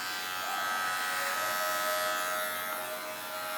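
Electric hair clippers run during a women's one-length haircut, giving a steady, fairly quiet buzzing hum that continues unbroken throughout.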